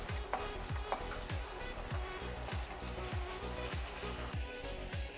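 Small fish frying in oil in a pan for a Bengali bitter gourd dish, a loud continuous sizzle with a regular rhythmic scraping beat of about two strokes per second.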